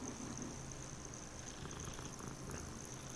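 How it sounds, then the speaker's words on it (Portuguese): A cat purrs in Hogwarts Legacy, a soft continuous low rumble faintly audible under quiet game ambience and a steady background hum. "Um gatinho aqui pra interagir."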